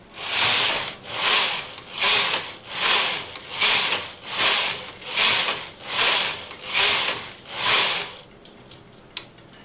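A knitting machine carriage sweeps back and forth across the bed knitting rows with two strands of yarn, making about nine even, rhythmic whooshing ratchety passes, loud and close, followed by a few faint clicks.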